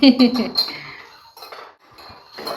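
A metal spoon clinking against a dish while chutney is served at a home tea gathering: a few light, ringing clinks close by, mixed in with people talking.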